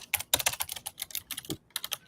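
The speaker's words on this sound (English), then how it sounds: "if you can hear my keyboard, I'm sure you can" Typing on a computer keyboard, a quick, uneven run of close, crisp key clicks with short pauses and a slightly heavier thump near the middle.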